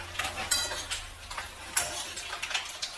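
Clams in a white wine sauce are stirred in a pan, their shells clicking and tapping irregularly against the metal with a soft sizzle underneath.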